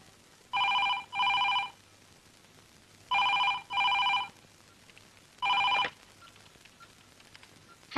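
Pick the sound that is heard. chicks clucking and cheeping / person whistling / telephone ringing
telephone ringing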